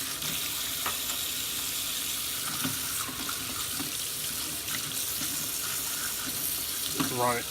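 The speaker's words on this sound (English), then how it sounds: "Just run the water over it." Steady rush of tap water splashing and running over a metal rifle muzzle device, continuous throughout, with faint clinks and a brief squeak near the end.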